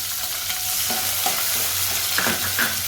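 Sliced onions frying in a pan with cumin, shahjeera, cinnamon, pepper and cloves for a vegetarian biryani: a steady close hiss and sizzle with a few scraping stirs and clinks, no talking.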